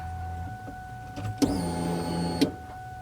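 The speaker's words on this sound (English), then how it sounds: "You're gonna hear the fuel pumps kick on for about 2 to 3 seconds and shut off." A 1999-2004 Mustang GT with a PBH Performance Coyote swap control pack primes its fuel pumps: a steady electric whir switches on, runs for about a second, then clicks off, faint and close in a quiet garage.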